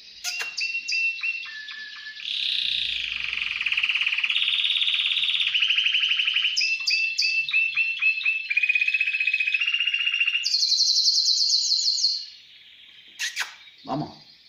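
Spanish timbrado canary singing in an aviary: a long, loud, continuous song of metallic rolling trills and chirps that change pitch in segments, with brief calls near the end.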